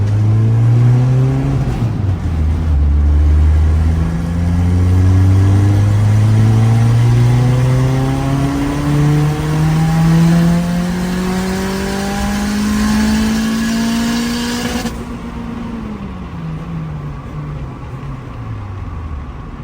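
Turbocharged Honda F20B hatchback engine under boost, revving up through fourth gear with rising harmonics to the 7400 rpm limiter, then backing off; loud, close and sustained with no talk.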